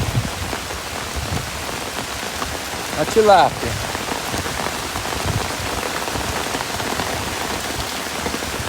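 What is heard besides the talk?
heavy rain falling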